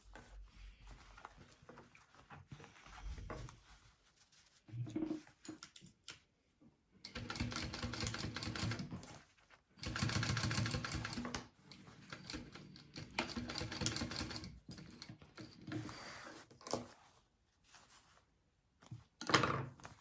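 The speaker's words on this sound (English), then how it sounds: "now we're going to sew up the sides of our coin pocket and just go as far up as you can" A sewing machine stitches up the sides of a wallet coin pocket in close, buzzing bursts of rapid stitching, a few seconds each, separated by brief pauses.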